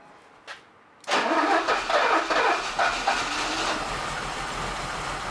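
An old Mercedes that sat parked for decades cranks once, then its engine catches and fires up loudly, revving unevenly before settling into a steady idle.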